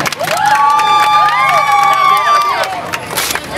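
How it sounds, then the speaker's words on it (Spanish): A crowd at an outdoor volleyball school tournament award ceremony cheers loudly and applauds, with whoops and shouting that swell and then fade over a few seconds. "Un fuerte aplauso para Tomás Villafaña."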